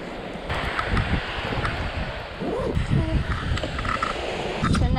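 Wind buffets the microphone on a beach in Maui during an outdoor portrait shoot, a steady rough rumble with gusty swells and faint surf underneath.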